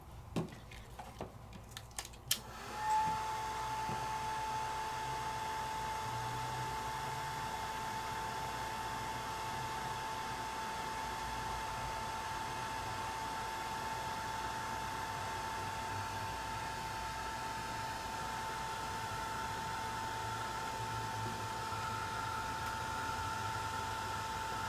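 An embossing heat tool switches on and melts embossing powder, blowing with a steady, close whoosh and a thin constant whine that runs unbroken for over twenty seconds.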